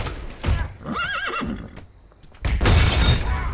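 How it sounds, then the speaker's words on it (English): A horse in a video game gives a loud whinnying neigh with a wavering, descending pitch, framed by hoof clops and a crashing, shattering burst at the end. "Why is there a horse in there?"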